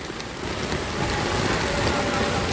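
Heavy morning rain pours over a flooded Green Road in Dhaka, a dense, continuous hiss of downpour and splashing water, loud and unbroken throughout.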